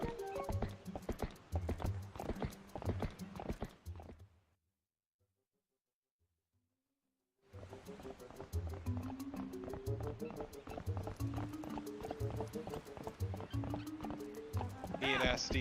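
Galloping horse hooves in The Legend of Zelda: Twilight Princess, a fast rhythmic clip-clop that cuts out to silence for a few seconds before returning, with people talking over it.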